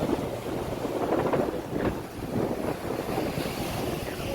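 Steady roar of strong surf and crashing waves with gusting wind buffeting the microphone at Tan-awan View Deck, Tinawagan Hills, Bicol, continuous and fairly loud throughout.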